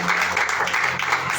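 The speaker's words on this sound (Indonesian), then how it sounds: "Beri tepuk tangan buat Tuhan Yesus." A church congregation at an Ascension service in Sukabumi claps together in a dense, steady roar of applause. It holds loud and continuous through the whole brief moment.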